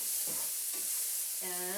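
Vegetables with Italian seasoning sautéing in a pan, a soft, continuous hiss broken by a few quiet stirs. A brief tonal sound comes in near the end.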